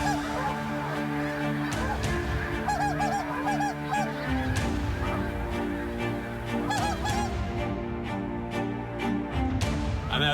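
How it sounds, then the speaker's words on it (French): A big flock of snow geese honks loudly and continuously as it lifts off a spring staging field in Québec, a dense overlapping chorus of calls that never lets up. "Les oies quittent la bâture à la recherche de terres agricoles pour s'y nourrir."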